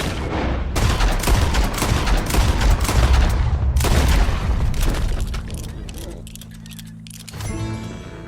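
Gunshots ring out in Red Dead Redemption 2 during a hunt for a beast: a dense, rapid volley of loud booming shots that thins toward the end, followed by a lower rumble and a metallic rattle.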